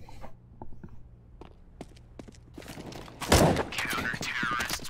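Pistol shots from a P250 in Counter-Strike on the Mirage map during a competitive esports match, clicks and footsteps, then a loud crack and sustained rattling bursts, with a commentator talking over the game.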